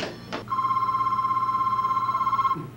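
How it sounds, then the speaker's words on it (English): A telephone rings with a long, steady electronic tone held for about two seconds, loud and close, after a short click at the start, with no talking during the ring. "the phone. You want to get it?"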